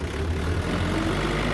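Steady low engine rumble at idle, constant and close, with no voices over it.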